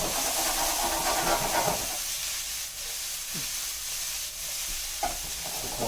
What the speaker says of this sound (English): Those will saute up real nice.